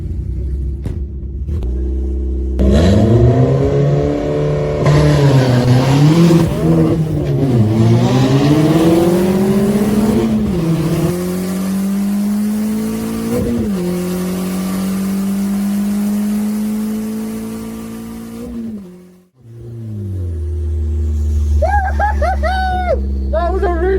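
An all-wheel-drive Nova race car with a 2-litre turbo engine makes a full run, its loud engine rising and falling through repeated revs and gear changes, then briefly cutting out before roaring back up.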